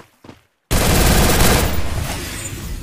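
Dense, loud burst of automatic gunfire in a PUBG-style battle royale game, a rapid volley erupting after a brief quiet moment and sustained for about two seconds before tapering slightly.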